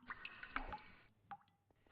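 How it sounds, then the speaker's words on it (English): Water dripping in a Minecraft cave, quiet liquid plinks and drops with a short splash, spaced irregularly against near-silence. "Oh, dripping water sounds pretty cool."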